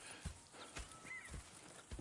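Horses clip-clopping in the Western game Red Dead Redemption 2, soft, irregular hoof thuds at a walking pace, fairly faint and close, with a brief whinny-like tone in between and no talk.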